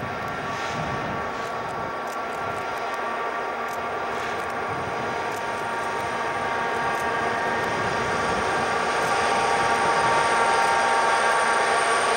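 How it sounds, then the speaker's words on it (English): A westbound freight train led by a consist of SD24 diesel locomotives, four of five units, rumbles steadily on the Tehachapi line toward Woodford, its engine drone and wheel noise growing gradually louder as it approaches. "The westbound continues toward Woodford with SD24s making up 4 out of the 5 units in the power consist."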